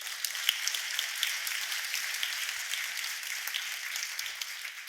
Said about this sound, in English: Give them a very big applause